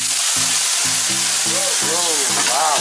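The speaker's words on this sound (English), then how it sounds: "Prawn first to get the smell very nice." Prawns fry in a pan as the first step of pad Thai, a loud, continuous hissing sizzle with voices talking over it.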